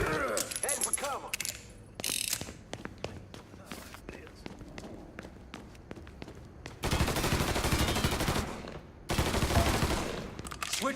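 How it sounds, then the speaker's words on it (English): Weapon ammo being switched in Mafia 3, a run of mechanical clicks and ratcheting snaps with bursts of noisy gunfire, and game dialogue at the start. "Switching out ammo."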